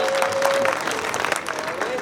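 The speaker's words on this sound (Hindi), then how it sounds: "एक बार ताली वाली बजा के मुझे भी बता दो यार।" An audience at a Hindi poetry gathering (kavi sammelan) claps steadily for a couple of seconds, a dense crowd applause with a faint tone and murmuring mixed in.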